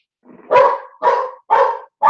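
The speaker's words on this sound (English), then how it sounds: "My dogs don't like for nobody to walk even in front of my house." Several dogs bark sharply at a passerby walking in front of a house, four loud close barks in a steady rhythm with no talk.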